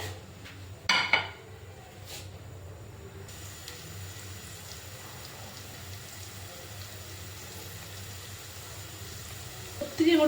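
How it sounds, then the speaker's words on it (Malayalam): Garlic and ginger frying in a pan for a roasted-coconut chicken curry, giving a steady low sizzle throughout with a couple of brief clinks of utensils against the pan near the start and end. "ആദ്യം നമുക്ക് വെളുത്തുള്ളി ഇഞ്ചിയും കൂടി ഇടാം അതൊന്ന് വരണ്ട വരട്ടെ"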